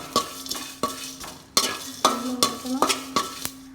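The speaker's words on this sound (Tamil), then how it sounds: "2 பட்டை, 2 ஏலக்காய், கொஞ்சம் பெருஞ்சீரகம், கொஞ்சம் கசகசா வறுத்தாச்சு" Cinnamon sticks, cardamom pods, fennel and poppy seeds are dry-roasted in a pan, stirred in a series of sharp scraping strokes with light crackling between them, close and loud, with no voices.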